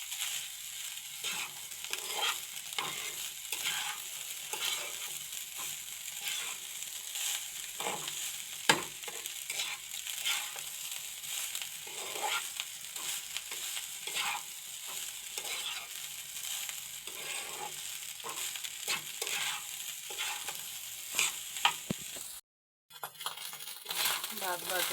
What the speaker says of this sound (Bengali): পেঁয়াজ কাঁচামরিচ দিয়ে ভাতটা ভাজি করবো